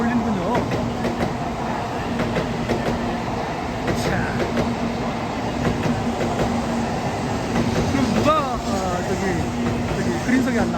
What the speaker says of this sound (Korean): 어 수학여행 열차다. 아하 수학여행 열차네.